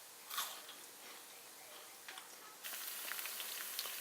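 Faint, steady crackling sizzle of okra frying in oil, with a few soft clicks and stirs, growing slightly denser partway through.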